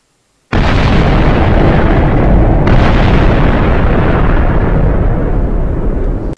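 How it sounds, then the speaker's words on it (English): A thermobaric bomb from the Minecraft Voltz mod detonates with a sudden, very loud blast that rolls on as a dense, heavy roar for about six seconds before cutting off, with no voices over it. "So, it's sort of like a mini nuclear explosion, that bomb"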